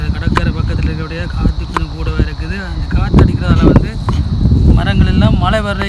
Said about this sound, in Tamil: சில்வண்டுகள் இந்த ஓசையும் காகங்களும்